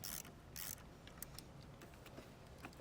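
A 10 millimeter wrench works loose the negative battery terminal nut, giving quiet, close metallic clicks and ratcheting scrapes in a few short bursts, with no talking.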